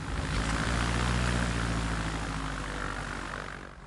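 A light propeller aeroplane carries an elderly passenger on a pleasure flight, its engine droning loud and steady throughout, easing slightly toward the end.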